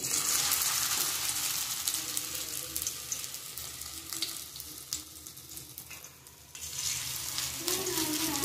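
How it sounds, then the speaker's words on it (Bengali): Lentil fritters fry in hot oil over a low flame, giving a loud, steady sizzle that crackles and hisses throughout, close up and with no voices. "এখন তেলও গরম হয়ে গেছে, বড়াগুলো ভেজে নেব।"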